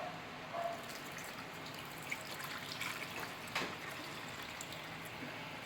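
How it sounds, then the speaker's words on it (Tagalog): Water splashes and trickles steadily into a pot of pork for sisig, a continuous wet pouring with a few small drips, close and moderately quiet. "So, syempre, lagyan natin ng tubig."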